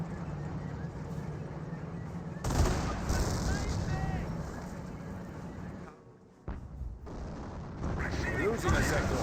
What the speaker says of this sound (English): the squad now receiving massive fire now